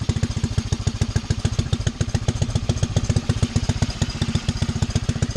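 A 1912 Indian board track racer replica engine runs after a pull start, its loud, close exhaust beating in a fast steady rhythm of sharp pulses without a break.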